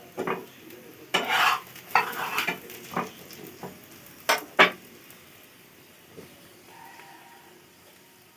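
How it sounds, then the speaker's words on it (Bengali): Rolls frying in oil in a pan, with scattered spatula scrapes and clinks against the pan over a faint sizzle, several sharp bursts in the first half then quieter. "আমি আরেকটু এই পাশটা ভালো করে ভেজে নেব।"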